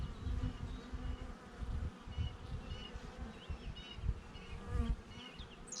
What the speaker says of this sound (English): I guess I caught a swarm